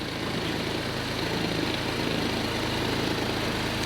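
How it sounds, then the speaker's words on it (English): A crash-damaged BMW 218i, rebuilt after an auction purchase, idles steadily up close with an even, continuous low engine hum and no talk. "The engine is running nice and smooth."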